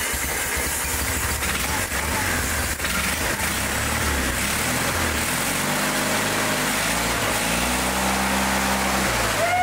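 An obsolete Onan engine, just fitted with a repaired ignition system, cranks with rough knocking and rattling before catching and settling into a steady running hum, close and fairly loud.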